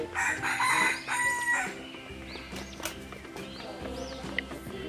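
Chickens cluck and a rooster crows repeatedly at close range, a busy poultry-yard chorus with no talking.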